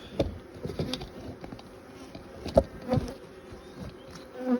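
Bees buzz steadily close by around a cedar hive during an inspection, with occasional louder passes and soft knocks over a continuous low drone.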